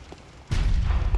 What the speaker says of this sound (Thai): จะยิงปืนใหญ่ลงไปข้างล่าง